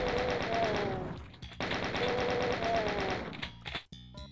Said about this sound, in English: That chain gunner sounded like a shotgunner.